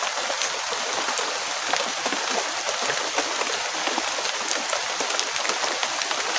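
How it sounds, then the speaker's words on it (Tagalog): Heavy rain pours steadily outdoors, a dense hiss of drops striking leaves and surfaces, with scattered sharper patters, continuous and fairly close for the whole stretch. "Malakas ang ulan guys"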